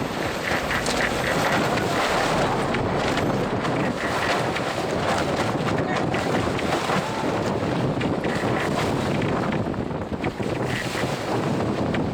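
Strong wind buffets a reefed sailboat under way, a constant loud rush of wind over the microphone mixed with water and wave wash, with no voices.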